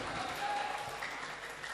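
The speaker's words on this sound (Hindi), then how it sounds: "जोरदार तालियों के दरमियान जनाब अफरोज अखलाक" Audience at the 2019 Amravati mushaira applauds a poet, fairly faint continuous clapping from a crowd with no voice over it.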